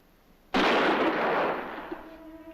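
A single loud gunshot from a horror film fires with a sharp sudden blast, then a broad roar that slowly decays over a couple of seconds into a faint lingering hum.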